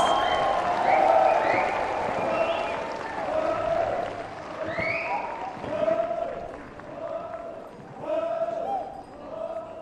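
Audience applause for a cultural troupe on stage, with a voice talking over it and the clapping fading in and out in uneven waves.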